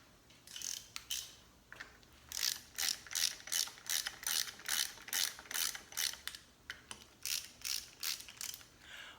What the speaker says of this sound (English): Why is he using a ratchet?